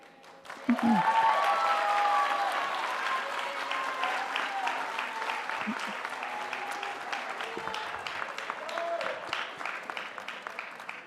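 A crowd at the Longfellow High School graduation in Milwaukee breaks into loud sustained applause mixed with cheers and whoops, the clapping starting abruptly and continuing steadily for about ten seconds.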